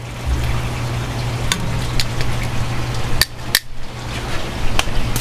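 Pork chops set into a hot pan for pork chops and sauerkraut, sizzling hiss under steady hum with several close clanks and taps of the pan and utensils.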